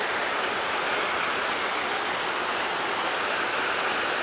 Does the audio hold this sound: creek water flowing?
yes